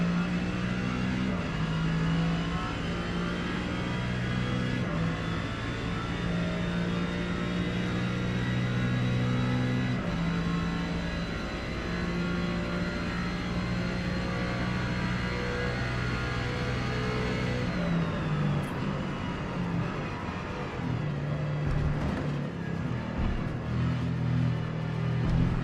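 Race car engine in the Forza Motorsport racing game, a loud continuous rumbling drone with steady harmonic tones that hold and then shift as revs change, sustained for about 25 seconds without talk.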